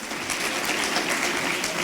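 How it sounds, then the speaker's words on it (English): A crowd at a State of the State address claps steadily, a dense wash of applause that holds at an even level throughout, with no voices standing out. "Secretary of State Bill Gardner deserves a round of applause"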